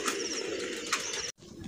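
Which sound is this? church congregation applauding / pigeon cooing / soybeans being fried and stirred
pigeon cooing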